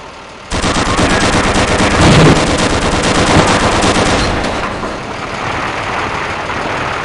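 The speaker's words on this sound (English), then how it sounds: "Press your crouch key to fire the machine guns" Tank turret machine guns fire in Half-Life: Gunman Chronicles inside an asteroid, a loud, sustained rattling burst that starts abruptly over an engine rumble, then tapers off toward the end while the engine keeps running.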